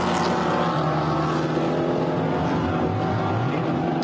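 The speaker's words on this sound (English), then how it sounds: "Number 98, yeah, rumbling around the track. Great sound, not yet great pace though." A GT4 race car, Ginetta or McLaren, rumbles around the Nürburgring circuit during GT4 European Series qualifying, a steady loud engine drone with a propeller-like tone heard from close by, with no voices.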